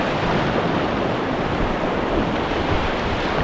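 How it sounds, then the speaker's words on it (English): White water rapids on the River Spey in Scotland roar as a loud, continuous rush of churning waves close by, with wind buffeting and no voices. "when you're looking down there and it's dropping away into big waves"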